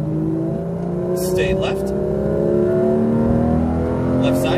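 Porsche GT3 RS engine pulling hard on a race track, a steady rising drone that climbs in pitch as the car accelerates, loud and close throughout, with an instructor's voice speaking over it.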